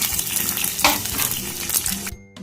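Chilies, coriander seeds and black pepper fry in hot oil for a potato, mushroom and field-bean kurma, giving a dense, steady close sizzle with a few utensil scrapes and taps before it cuts out near the end.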